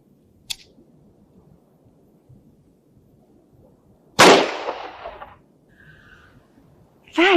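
Revolver fired once loaded with a mix of dummy and live rounds: a single loud, sharp report with a long decaying tail, faint clicks before it, and another blast starting at the end.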